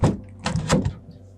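Several heavy knocks on a wooden door in uneven bursts, loud and near, followed by quieter thuds like footsteps moving inside.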